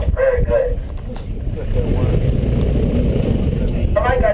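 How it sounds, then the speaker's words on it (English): An airboat runs on the Everglades wetlands, its engine and propeller giving a steady, loud roar with heavy wind buffeting throughout, a few brief voices heard near the start and end. "I've only been driving airboats for about 10 weeks now."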